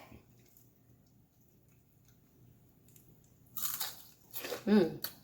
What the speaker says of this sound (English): Hear that crunch? Crunchy, chewy, soft, delicious.